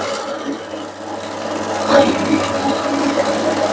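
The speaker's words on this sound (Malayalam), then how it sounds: "ഇതവിടെ കൊപ്ര കട്ട് ചെയ്യുന്ന മെഷീൻ ഓണാക്കി ഇവിടെ മോളിൽ ഇട്ട് കൊടുത്താൽ കൊപ്ര കട്ടായി വരുന്നല്ലേ" Small copra cutting machine running while dried coconut is fed in and chopped into cubes, a steady mechanical whir that grows louder and busier midway through.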